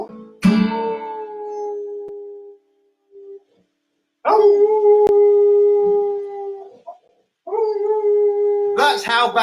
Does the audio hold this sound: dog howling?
yes